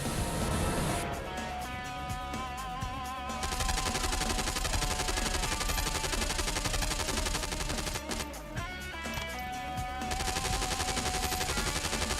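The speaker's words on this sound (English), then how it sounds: "Guy is just rushing me with a machine gun." Enemy machine gun fire in the PS2 game Don 2 rattles in long, dense, rapid bursts, loud and close, with a brief pause before it resumes over a music bed.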